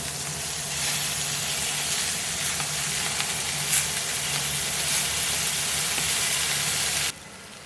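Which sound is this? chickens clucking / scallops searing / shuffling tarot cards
scallops searing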